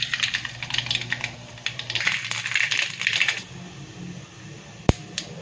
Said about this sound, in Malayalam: കുറച്ച് കടുകിട്ട് പൊട്ടിക്കാവേ.